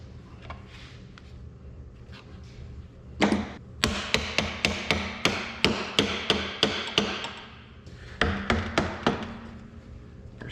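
Hammer strikes driving a flat screwdriver used as a chisel while disassembling an 1855 mechanism with springs: a short burst of blows, then a steady run of about a dozen sharp, evenly spaced metallic taps, then a few more, close and loud.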